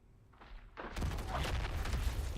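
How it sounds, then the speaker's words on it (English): Thunder in the video game God of War Ragnarok arrives as a faint rumble that swells into a loud, sustained roll, building near the end. "Were those doors or was that thunder?"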